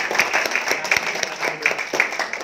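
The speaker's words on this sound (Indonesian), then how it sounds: "Oke, agak tepuk tangan ya" Audience at a reseller training event gives brief clapping, a scattered patter of hands close by with some crowd noise, lasting a couple of seconds.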